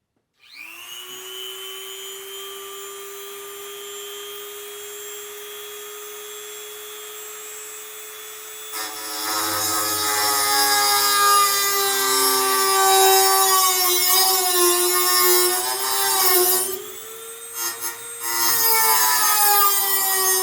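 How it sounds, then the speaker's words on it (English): A Dremel rotary tool with a tiny cutoff disc whines at a steady high pitch as it spins up, then bites into the material to cut a slot between two holes, adding a loud gritty grinding roar that briefly eases and resumes near the end. "Now I'll get my Dremel tool out and cut the remainder of the material out between the two holes,"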